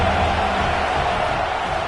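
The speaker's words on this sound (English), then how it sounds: "Big 3rd down as the crowd gets behind this defense." A stadium crowd in an NCAA 26 college football video game roars in a steady, dense wash of cheering and noise on a big third down, loud and unbroken throughout.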